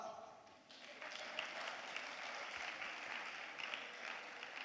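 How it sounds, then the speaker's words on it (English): An audience at a talk breaks into applause, a broad, sustained roar of many hands clapping that swells after a brief quieter moment and holds steady, with some crowd voices mixed beneath. "Oh, you can clap."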